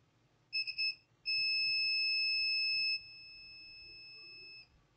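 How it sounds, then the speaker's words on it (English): A multimeter testing a circuit board on an Itel S16 charging flex board: a few short stuttering beeps, then a loud steady continuity tone held for nearly two seconds, followed by a quieter tone that trails off. "You can hear the sound of the multimeter."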